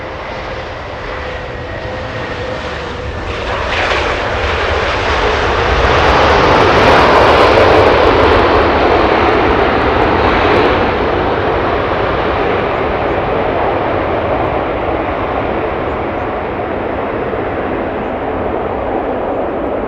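A China Southern Airbus A380 on its last arrival lands at Los Angeles International Airport, its engine roar swelling from a distant whine to a loud, broad rumble and then holding steady as it rolls out.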